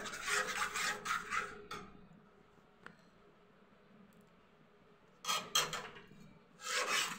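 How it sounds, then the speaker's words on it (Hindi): Scraping and rubbing strokes of a spoon stirring mango pulp in a kadhai on low heat, close bursts in two clusters separated by a quiet stretch with a faint tick. "कम आंच पे ऐसे ही चलाते रहेंगे इसे, कुछ देर इसे पकाएंगे अच्छे से।"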